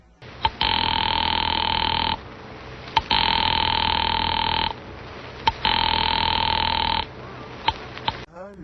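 A telephone ringing in repeated long electronic tones, three full rings with short gaps between, loud and near, ending with a brief click.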